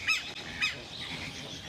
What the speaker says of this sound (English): And these are scarlet ibises?